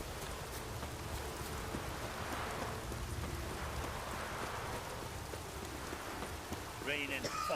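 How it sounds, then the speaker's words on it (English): Heavy rain pours steadily in The Witcher 3 as a dense, constant hiss that fills the scene, with a few faint tonal sounds near the end. "Raining fucking buckets."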